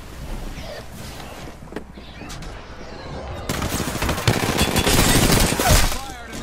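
Gunfire in the Apex Legends video game crackles in rapid bursts that build into dense, loud automatic fire in the second half, with a voice talking over the earlier part.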